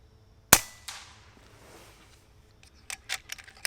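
An FX Dreamline air rifle with a Dream-Pup bottle fires several sharp shots: a loud crack, a softer second report, then a quick cluster of snappy pops near the end, each close and dry with no talking.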